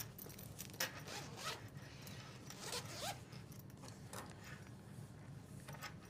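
Zippers on a fabric bag organizer with three zipper openings being pulled open, a faint, close scratchy rasp with brief tugs, quiet and with no talking.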